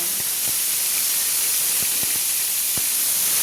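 Chopped onion sizzles in hot oil in a pan while frying for a Bengali spinach and prawn dish, a loud, steady hiss with a few soft clinks scattered through it.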